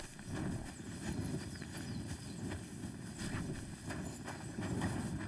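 Horse moving through woodland in the video game Kingdom Come: Deliverance II, with steady low rustling and soft hoof-like thuds continuing throughout at moderate distance, no talk over it.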